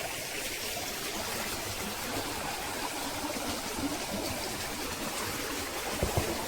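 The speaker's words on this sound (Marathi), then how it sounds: "पाण्याचा वेग थोडा कमी केलेला आहे" A slowed forest stream flows steadily with a soft, continuous watery wash, close by and moderately quiet, in a Konkan jungle where crab traps are set; no one speaks.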